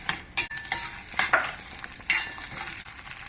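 Green chilies frying in hot oil with cashews for a semolina tempering, crackling sizzle broken by several sharp stirring scrapes and bursts, close and uneven, without talk.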